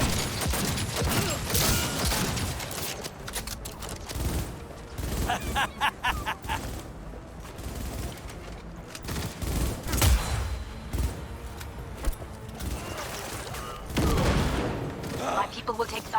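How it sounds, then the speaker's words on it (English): Video game gunfire with pistol shots mixed into a dense barrage of bursts, impacts and mechanical clatter, loud and continuous with a voice talking over it. "I'm just gonna pistol this guy"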